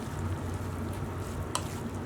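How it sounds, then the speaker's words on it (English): Lebanese hashweh rice stirred in a pot, a soft continuous crackling sizzle with faint scraping, and one brief sharp clink of a spoon against the pot near the end. "Just give it a quick stir."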